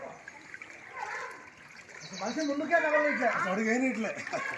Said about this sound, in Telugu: నీళ్ళు బాగా నడుతున్నాయి